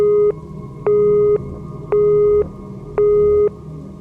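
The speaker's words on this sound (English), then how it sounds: "Panicking, Sarah tried calling 911 again, but this time the call wouldn't go through" A busy signal from a failed phone call sounds as four evenly spaced tone bursts, loud and clear, with short gaps between them.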